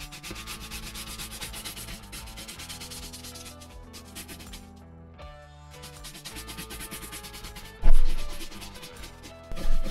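Horsehair brush rubbing over leather cowboy boots during cleaning and conditioning, a steady rapid scrubbing rhythm at close range, with a short pause midway and a couple of louder knocks near the end; no talking.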